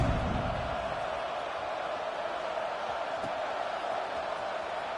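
Steady, loud stadium crowd roar from a college football video game, Michigan versus Oklahoma State, swelling before a kickoff with a continuous wash of noise and no distinct chants.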